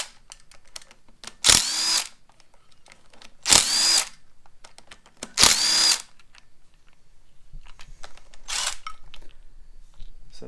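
A power drill spins out the four bolts holding the oil control valve on a 2008 Subaru Impreza, three loud whirring bursts of about half a second each, then a fainter fourth, with quiet workshop pauses between them.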